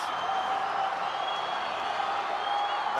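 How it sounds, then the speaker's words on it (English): Stadium crowd at a Pacific Games soccer final penalty shootout between New Caledonia and Solomon Islands, a sustained wash of applause and cheering, steady and fairly loud throughout. "The crowd loving it."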